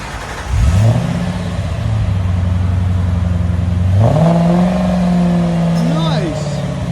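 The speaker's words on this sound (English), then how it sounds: "It's the nice thing about BORLA S types. It gives it a really classy sound." A 2003 Ford Thunderbird with a 3.9L V8 and a Borla S-Type dual exhaust idles with a deep, smooth burble, then revs up in a couple of climbing pulls before settling back, close and loud.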